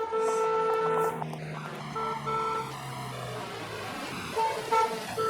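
A car horn honks in long, sustained blasts, then again in shorter toots, loud and close, with traffic noise underneath.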